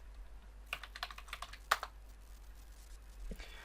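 Keystrokes on a computer keyboard while a domain and username are entered on a Windows Server 2008 machine: a short run of close, crisp clicks, one sharper tap in the middle, then a few more near the end.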